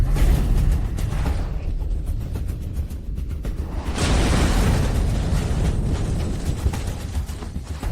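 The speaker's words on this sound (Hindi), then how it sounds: "देखो, मिसाइल वापस आ रही है।" A missile roars back overhead and explodes in a dense, sustained rumbling blast, loud and close throughout, swelling again midway as a second wave of rushing explosive noise builds.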